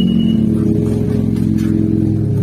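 A car's engine idles steadily after being started by pressing a motorcycle anti-theft alarm remote fitted to the car, a continuous close mid-range hum throughout.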